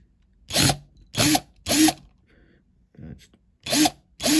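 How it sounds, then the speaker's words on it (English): Power drill boring out the rivets on a Matchbox Jaguar XJ12 die-cast model car, five loud, short bursts of about a quarter second each, separated by brief pauses with faint handling noise between them. "So start by drilling those out."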